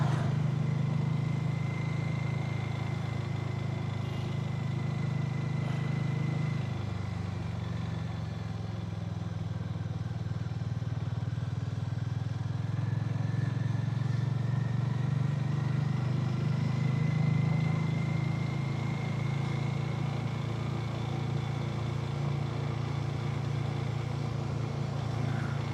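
Steady engine drone of a motorcycle being ridden home on a highway near Khajuraho, a continuous low rumble with rushing wind and faint whine overtones, constant and close throughout with no speech.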